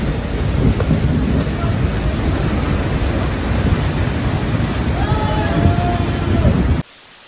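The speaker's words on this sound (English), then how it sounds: "These incredible ocean images were captured during a hurricane. The water enters the deck uninvited." Hurricane-driven ocean waves surge and crash onto a deck in a loud, continuous roar of churning water and spray, broadband and sustained before cutting off abruptly near the end.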